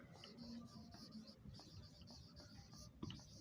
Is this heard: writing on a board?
yes